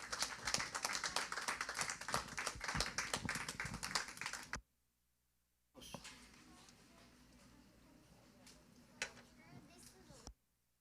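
A church congregation claps in praise during a service, with loud rapid clapping that cuts off abruptly, a short silence, then softer scattered claps and room murmur.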